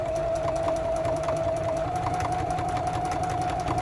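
Sewing machine stitching a quarter-inch seam through lining fabric onto a scrap of waste fabric, a steady close, continuous whirring rattle with a fast even needle rhythm and no pauses.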